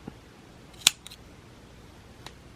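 Scissors snip through yarn after a round of a crocheted African flower hexagon granny square, one sharp close cut standing out with a couple of fainter clicks after it in a quiet room.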